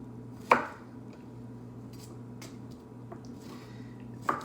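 Peppers going soft being chopped into big chunks on a cutting board, a few sharp knife knocks spaced apart, close and fairly quiet against a low hum.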